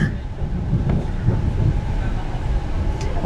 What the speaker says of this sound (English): The paralleling suburban train here as well.